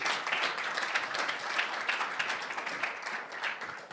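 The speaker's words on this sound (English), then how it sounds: "Another applause, please" A conference audience applauds after the presentations, a continuous dense burst of many hands clapping that holds steady for the whole stretch, fairly near and full with no talking over it.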